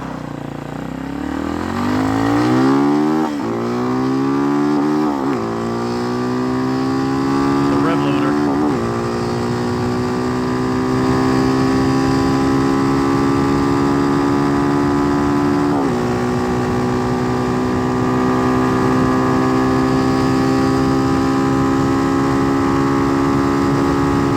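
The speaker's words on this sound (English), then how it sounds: "All right, I'm gonna try to do a little top speed run here." A Hawk 250 motorcycle with a swapped Loncin RE250 engine and Nibbi PE30 carburetor on a top speed run, its engine droning loudly and rising in pitch through the gears before holding steady, with wind rush.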